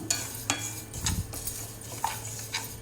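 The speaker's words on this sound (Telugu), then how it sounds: "ముందుగా పొలగానికి ఒక అరకప్పు పెసరపప్పుని దోరగా వేయించుకుంటున్నాను డ్రై రోస్ట్ చేసుకుంటున్నాను" Moong dal is dry roasted in a pan, and a spoon scrapes and stirs it in quick, light strokes that click against the metal, close and moderately loud, with no talking.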